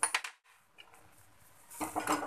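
Spoon scraping and clinking against a bowl while corn chevda is tossed with lemon juice, rice flakes, sev and coriander; a few sharp clatters at the start, a quiet stretch, then a busier burst of stirring near the end.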